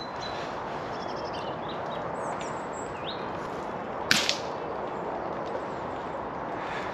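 A single sharp crack from a BSA Supersport air rifle fitted only with its factory muzzle brake and no silencer, fired outdoors with faint birdsong and a quiet background hiss around it.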